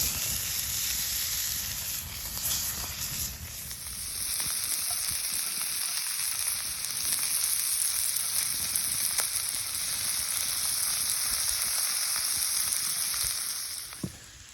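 Chopped ground beef fries in a pan at a campsite, a steady close sizzle and hiss running almost unbroken, with a brief stir-like shift early on and no talking.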